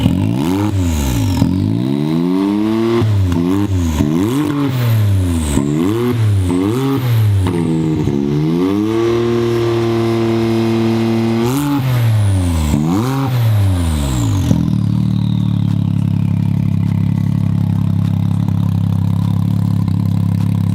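A Can-Am UTV's aftermarket exhaust rumbles at idle, then revs repeatedly in sharp rising and falling bursts, before settling into a steady, higher drone.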